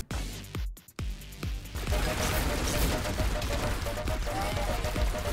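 Rapid game gunfire bursts in a chaotic multiplayer minigame, dense overlapping shots building into a sustained loud barrage after a brief quieter start, with voices mixed in.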